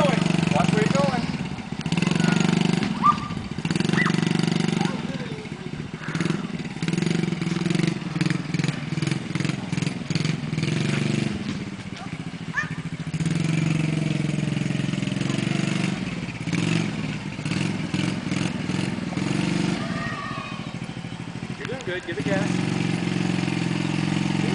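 A child's four-wheeler ATV engine revs and drones steadily and up close, its pitch rising and falling as the throttle changes, while adults talk and call out over it throughout.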